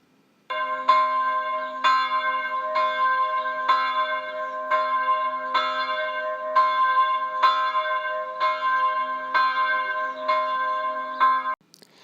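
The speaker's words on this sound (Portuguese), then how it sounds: "quando o carrilhão soou à meia-noite" Carillon bells striking midnight, a run of about twelve evenly spaced, loud, ringing strokes that overlap into a sustained metallic chime, heard alone.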